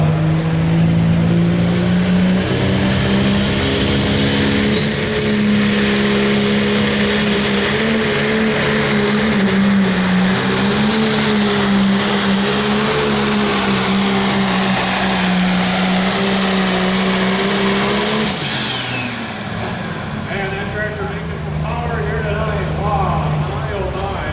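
A turbocharged 640 cubic inch engine in a 9,500 lb limited pulling tractor roars at full throttle during a tractor pull, a loud steady droning howl that holds for about twenty seconds, briefly dips, then climbs again, with speech likely mixed in.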